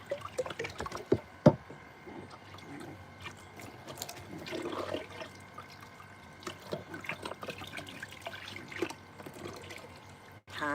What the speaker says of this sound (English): Water. Water. This is what you call water, mama.